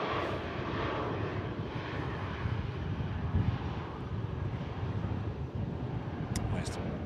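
Airbus A320 arriving at Manchester Airport, a steady, loud broadband engine roar that holds throughout with a few brief high clicks near the end, and a voice faintly audible underneath.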